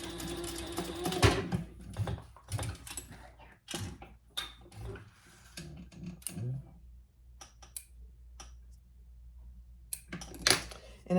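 A sewing machine stitches a metal D-ring in place on a wristlet with ivory thread, running in short stop-start bursts of rapid mechanical whirring, close by.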